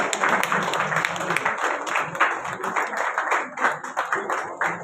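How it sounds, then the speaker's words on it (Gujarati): At a women's award ceremony, an audience claps for an awardee being called to the stage, producing a lively, uneven burst of applause with voices mixed in throughout. "જોરદાર તાળીઓ થઈ જાય એમના માટે"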